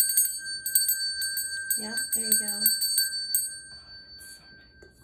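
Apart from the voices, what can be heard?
witch bell ringing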